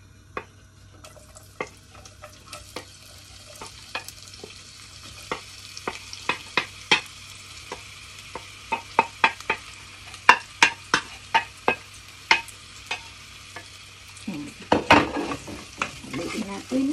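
White onions sizzling in a frying pan, a quiet steady fry under repeated sharp taps and scrapes of a spoon stirring, with a busier burst of clatter near the end.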